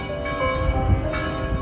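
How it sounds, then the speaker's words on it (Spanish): Church bells ringing in the old town of Dubrovnik, Croatia, a steady sustained peal with lingering metallic tones, heard alone against a low background rumble. "¿Y escucháis las campanas sonando?"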